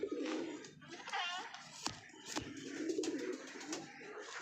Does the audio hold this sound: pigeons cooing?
yes